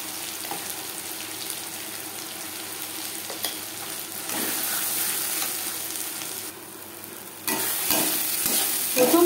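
Taro leaf paste frying in mustard oil over high to medium flame, a steady close sizzle with stirring scrapes, growing slightly louder toward the end, with no talking.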